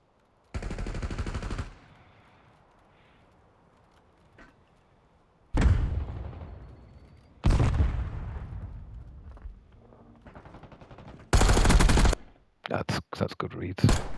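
Loud bursts of automatic gunfire and blasts in the Call of Duty video game, several separate volleys a second or more long, with quieter stretches between them.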